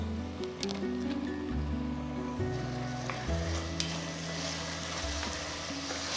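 Steady sizzling and crackling of chopped tomatoes frying in a hot pan over a high flame, continuous and close, with a low hum underneath and occasional stirring.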